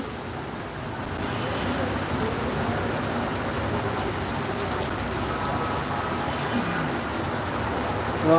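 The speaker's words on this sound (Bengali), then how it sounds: "আল্লাহ রহমতের বৃষ্টি হচ্ছে" Heavy rain pours down in Dhaka in a dense, constant hiss that holds steady throughout, with no talking.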